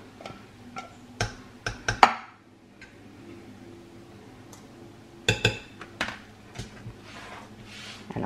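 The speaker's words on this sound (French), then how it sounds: "Alors, on mélange bien." Ground pork cretons being mixed in a container: scattered light clinks and taps of a utensil against the container, irregular and close, with quiet pauses between bursts.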